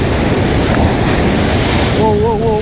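Sea waves rise and wash onto a rocky shore, heard as a loud, continuous roar of surf mixed with heavy wind buffeting, with a brief wavering voice-like sound near the end.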